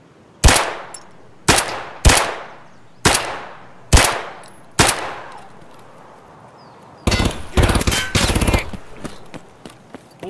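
Five sharp, loud gunshots ring out one by one at spaced intervals, each with a trailing echo, followed by a dense rapid burst of automatic fire.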